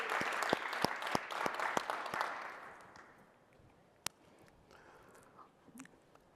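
A tech keynote audience claps for a database full-text search feature, bursts of hand claps that thin out and fade within a few seconds, followed by near quiet with one isolated sharp clap.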